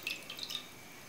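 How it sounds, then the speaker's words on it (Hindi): Water going into a non-stick pan while cooking semolina modak, heard as a few faint, close drips and trickles over a quiet kitchen background. "उसमें हम पानी डालेंगे।"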